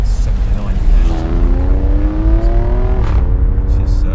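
An Alfa Romeo Stelvio Quadrifoglio on a road test builds speed, its engine note rising steadily before a gearshift drop and a fresh climb, loud and close, with a voice talking over it.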